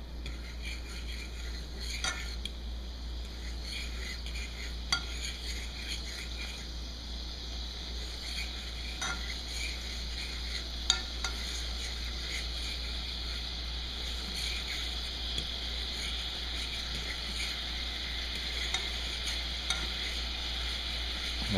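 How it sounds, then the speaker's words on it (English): Dragon chicken sauce reduces in a pan over high heat while a fork lightly whisks it, giving a faint steady bubbling hiss with soft scattered taps and scrapes and a low constant hum underneath. "You may want to whisk it lightly with a fork."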